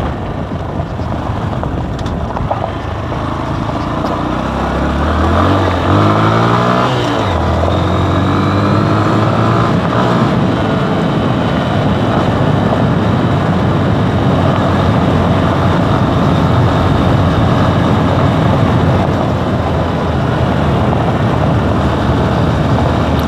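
A Honda Grom 125 motorcycle rides along an unpaved gravel road, its small engine droning loudly and steadily up close with a brief shift in pitch early on, under a constant rough wash of tire and wind noise.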